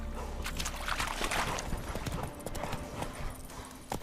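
Roach the horse trots in The Witcher 3 game world, a steady rhythmic clip-clop of hooves close by, moderately loud and continuous over faint background ambience.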